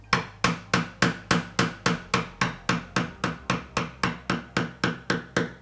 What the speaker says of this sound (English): You'll hear the tone of the chisel change when it bottoms out.